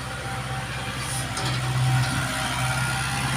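A large farm tractor's engine runs steadily at idle nearby, a constant low rumble with a faint high whine above it and no voices.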